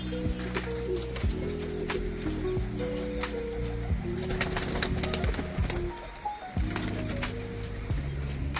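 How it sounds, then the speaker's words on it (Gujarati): Pigeons cooing in low, repeated throaty calls, close by, with occasional sharp rustles like wing flaps. "આપણા કબૂતર ઉડા હે થોડા."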